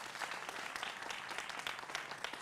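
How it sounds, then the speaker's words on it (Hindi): Television studio audience applauding guests on a Hindi political debate show, a dense continuous patter of clapping, moderately quiet and unbroken across the brief moment. "तो जोरदार तालियां होनी चाहिए"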